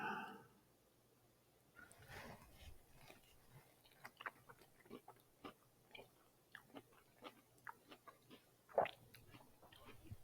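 Someone bites and chews a vegan donair wrap filled with tzatziki and mushrooms, with soft, regular close-up munching sounds over a quiet background and no talking.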